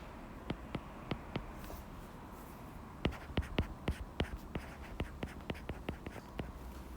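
Math conditions are written out by hand, a pen or marker tapping and scratching in quick close strokes, sparse at first and then a dense rhythmic run of marks.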